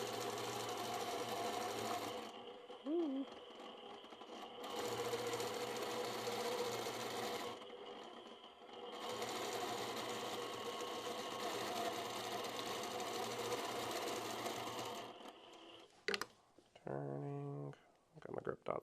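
A sewing machine stitches freehand ribbon candy quilting on a table runner, running in long steady whirring bursts with short pauses between them, and a voice talks briefly near the end.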